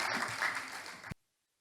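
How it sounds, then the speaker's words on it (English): A conference audience applauds a speaker coming to the podium: steady crowd clapping for about a second before the sound cuts off abruptly to silence. "Please, another applause for her."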